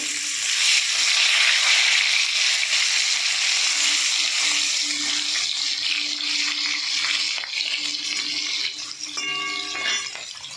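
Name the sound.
fish frying in oil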